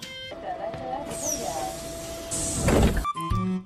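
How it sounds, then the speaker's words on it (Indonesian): Train doors slide along and shut with a dull thud, amid warning tones and people talking nearby. "kereta tersebut menutup pintu"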